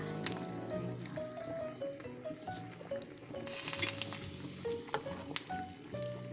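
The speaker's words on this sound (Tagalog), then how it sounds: "So, kumukulo siya." Chicken in soy sauce bubbles and sizzles in a pan, with soft popping and crackling, faint and close, plus occasional clinks of utensils.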